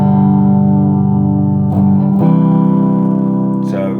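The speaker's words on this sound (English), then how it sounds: "Here it is in single coil." Gibson 2017 Les Paul Standard HP electric guitar with the pickup split to single coil, sustained chords ringing close and loud, restruck a few times over four seconds with a brighter tone.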